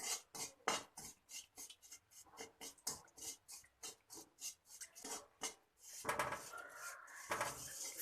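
A spoon or spatula scrapes and clinks rhythmically against a pan while sugar is stirred into hot oil for an onion and tomato sambar tempering, soft and close, with a brief sizzle near the end.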